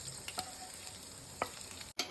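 Oil frying in a bowl-shaped pan while cooking prawn biryani, a quiet steady sizzle with a few soft stirring clicks and scrapes.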